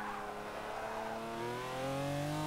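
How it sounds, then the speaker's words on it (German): A V12 race car engine in a video game revs and climbs in pitch, a smooth multi-toned whine building steadily louder over a couple of seconds. "Auch mein Sound, ne? Dieser wunderschöne V12."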